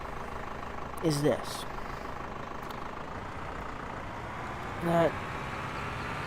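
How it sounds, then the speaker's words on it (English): A 75 horsepower tractor engine runs steadily at a constant drone throughout, with someone speaking briefly over it twice. "this tractor that I'm driving is 75 horsepower"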